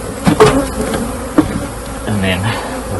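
Honeybees from a swarm buzz steadily up close in a long hive, with a few knocks and thumps of equipment as frames are handled.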